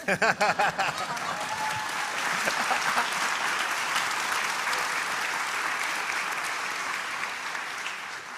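Audience applause at a speaking event, opening with a few loud separate claps from nearby before swelling into dense, sustained clapping that holds steady to the end.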